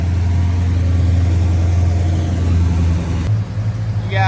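A Plymouth Superbird muscle car's engine runs with a deep, steady low rumble up close, then a brief shift in tone near the end as it is moved.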